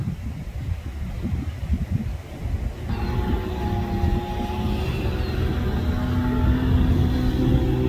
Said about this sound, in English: The trackmobile has disconnected from its consist and has pulled forward.